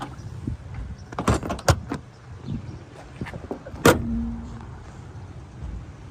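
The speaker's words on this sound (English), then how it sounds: "Go ahead, close the hood" The hood of a low-mileage, one-owner Saleen car is lowered and shut, several sharp metallic clunks and rattles followed by one firm slam, close by.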